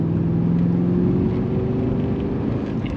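A car fitted with a 3-inch exhaust accelerates, heard from inside the cabin as a steady, fairly muted engine drone with a low rising tone and no voices.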